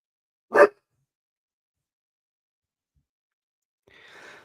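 One short, loud dog bark up close at its own reflection in a mirror, then quiet, ending with a faint breathy rustle.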